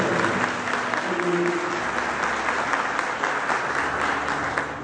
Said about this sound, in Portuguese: Pode aplaudir a palavra aqui.